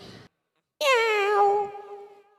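A human voice imitates two cats fighting, letting out one long, wavering, whining yowl after a short silence.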